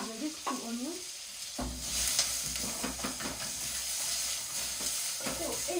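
Onions sautéing in ghee for a traditional Kenyan mixed greens dish, a soft steady sizzle with occasional stirring scrapes, low and close, with a faint voice-like tone at moments.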